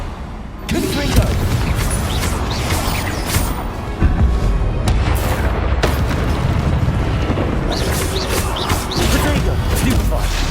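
Fiery Confringo spell blasts in the video game Hogwarts Legacy, a dense run of booming explosions and crashes over continuous game noise and music, loud throughout.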